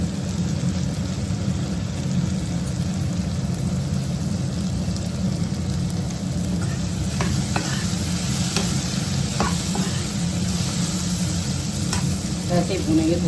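Food is stir-fried in a pan, a steady low sizzle running throughout, with occasional sharp scrapes and taps of a utensil against the pan, close by and without speech.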